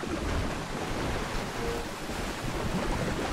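Wading slowly through water in the underwater city of BioShock 2 Remastered, a steady broadband wash of sloshing and rumbling that stays loud and continuous throughout, with no speech over it.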